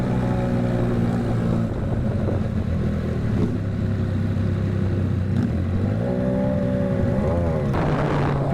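Triumph Daytona 765 motorcycle under way, a loud continuous engine drone with steady harmonic pitch, falling and climbing again as gears change late on, alongside rushing wind noise.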